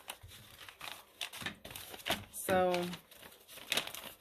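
Sheets of paper being folded for a nature journal signature crinkle and crease in repeated crisp bursts, with a sharp sliding swipe midway, close up, under brief speech.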